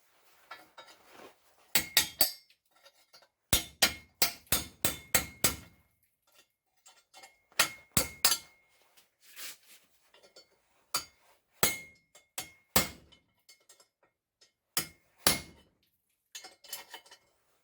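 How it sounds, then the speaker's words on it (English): Sharp metallic hammer blows strike a chisel against a loose exhaust stud nut, coming in irregular bursts of rapid clinking taps separated by short pauses, close and fairly loud with no talking. "Let's see if I can just take it rest way off with a chisel."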